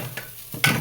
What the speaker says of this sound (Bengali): এবার ভালো মতো চালটা ভেজে নিব